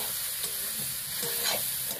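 Ground spices (Kashmiri chilli and turmeric powder) are stirred in a frying pan with a splash of water, a close, continuous sizzle with a few scraping strokes over two seconds.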